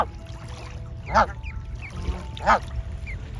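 Swans call on the water in Helsinki, two separate nasal honks about a second apart, moderately near, over a faint low background hum.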